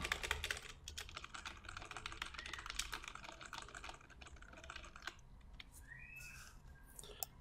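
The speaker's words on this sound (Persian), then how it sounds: "بذارید یه خورده تایپ بکنم." Steady typing on a computer keyboard, a dense stream of quiet clicks that thins out toward the end, with no talking.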